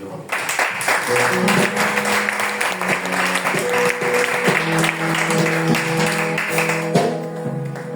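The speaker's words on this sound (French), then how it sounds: "Je veux qu'on acclame le Seigneur." A church congregation claps and cheers together in praise, a dense, steady burst of applause lasting several seconds, with music playing underneath.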